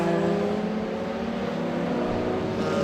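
A pack of Lotus Exige race cars drives through the Les Combes corner and downhill, a loud, steady engine drone with layered harmonics that holds throughout.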